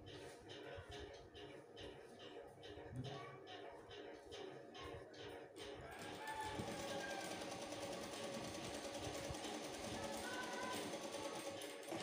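A sewing machine stitches lace onto the neckline of a nightdress, its rapid mechanical whir running steadily throughout, growing louder and denser in the second half, with a voice speaking over it.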